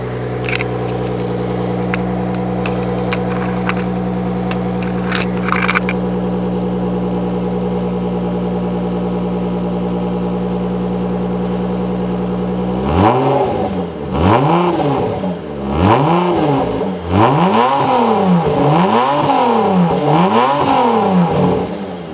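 A Mitsubishi FTO 2.0 V6 idles with a steady hum, then is revved repeatedly in a series of rising and falling bursts, loud and close, with no talking.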